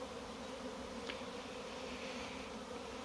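A honeybee swarm gathering back into a hive drones in a steady, soft buzz, fairly distant and low in level, with one brief louder insect pass close by partway through.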